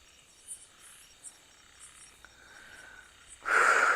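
Crickets and other insects chirp in regular pulses at night outside a tent with a mosquito net, fairly faint and steady until a louder rustling burst near the end.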